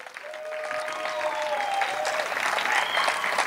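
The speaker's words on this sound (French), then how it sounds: "une équipe de bénévoles que je vous demande déjà d'applaudir" An audience at a slam poetry evening claps for the volunteer team, applause building from scattered hands into a steady, fuller round, with a faint tone running underneath early on.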